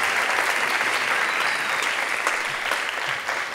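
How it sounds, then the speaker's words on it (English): Steady applause from a large audience at a dance conference closing plenary, dense and continuous, filling the whole stretch at full strength with no talk over it. "can I have a big round of applause for Ben and Flyaway Productions for this amazing video that they made?"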